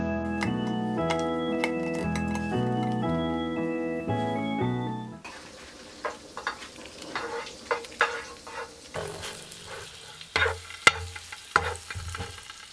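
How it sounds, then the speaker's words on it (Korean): A few seconds of soft melodic music give way to a gentle sizzle of an egg frying in a pan, with occasional light taps and clicks. "식빵을 노릇하게 굽고 계란 후라이를 만들었어요."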